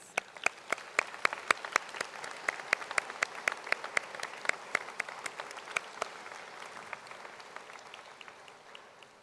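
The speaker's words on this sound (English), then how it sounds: "A round of applause" Audience applause at an Algonquin College Pembroke Campus convocation ceremony, a steady patter of many hands clapping at moderate distance that holds for several seconds and thins slightly toward the end.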